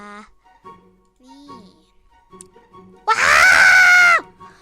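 A child character in the Sakura School Simulator game lets out one loud, sustained high-pitched scream lasting about a second, following quieter game sounds and a little speech.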